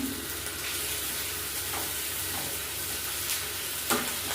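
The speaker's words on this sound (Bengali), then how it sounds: "এবার এখানে একটু আদা বাটা দিয়ে দেবো, অল্প একটু আদা বাটা, 1 চামচেরও কম" Ginger paste stirred into a hot frying pan while cooking radish kofta curry, giving a steady close sizzle with soft scraping stirs and a sharper clink near the end, no voices.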